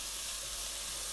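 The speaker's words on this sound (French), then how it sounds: "Donc là, hop, on fait vraiment rissoler" Leek, onion, garlic and carrots sizzle steadily in a hot pan as they brown, a loud, close, unbroken hiss of frying with a brief louder burst at the very end.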